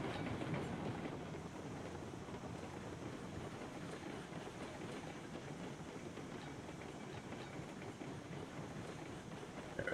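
Steady rumble and clickety-clack of a train rolling along rails in the Railroads Online video game, continuous and fairly loud throughout with no talk.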